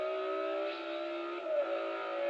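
Audi Quattro engine in a racing video game, a steady sustained drone with a brief rise in revs midway, continuous and close without any talking.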